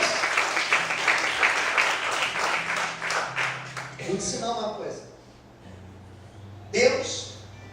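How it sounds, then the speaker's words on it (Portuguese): A church congregation at an evening service claps loudly and continuously for several seconds, then the applause fades out while a preacher's voice carries on over scattered cheers. "Mais aplausos ao Senhor essa noite."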